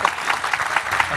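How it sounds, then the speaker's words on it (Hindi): Congregation clapping at a Christian healing service, a dense steady patter of many hands that fills the short moment at moderate loudness. "प्रभु के लिए जोरदार ताली।"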